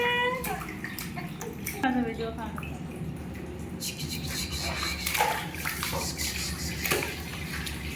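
Water splashes and sloshes in a small bath as a six-month-old baby plays, while an adult voice and childish sounds come through over the splashing.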